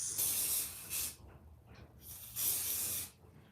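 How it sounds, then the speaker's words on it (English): Hair holding spray from an aerosol can misting onto a wig: two close, hissing bursts of about a second each, separated by a short quiet gap, with no talking. "You apply your holding spray like this."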